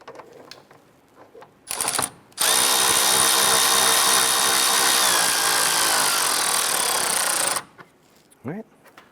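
A power tool runs steadily for about five seconds, driving in a bolt on the power steering reservoir of a 2005-2010 Chrysler 300. A short burst comes first, then the loud sustained whir, with faint talk before and after.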